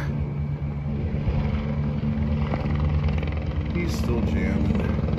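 A helicopter flies over an urban Burbank neighborhood on July 4, a steady low rotor rumble holding throughout at moderate distance, with faint traffic and city noise mixed in.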